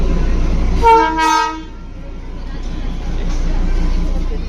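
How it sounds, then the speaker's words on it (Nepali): The Darjeeling toy train's horn gives a short double toot over a steady low rumble, with voices murmuring in the background. "यहाँ हेर्नु नै टोय ट्रेन आदि"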